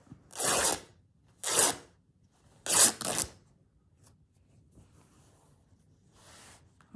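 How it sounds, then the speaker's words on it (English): Fabric for a slow-stitch wearable scarf is torn by hand in four short, crisp ripping bursts separated by quiet pauses, close and fairly soft. "I'll rip it."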